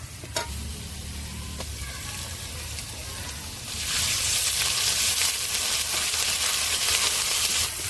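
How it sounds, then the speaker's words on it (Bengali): Ginger-garlic paste dropped into a pan of lightly browned fried onions for a jackfruit-seed and lentil curry, bursting into a loud, steady sizzle after a few stirring scrapes and clinks, close up. "পেঁয়াজটা হালকা করে লাল লাল করে ভেজে নিয়েছি এর মধ্যে এবার দিয়ে দেবো আদা রসুন বাটা"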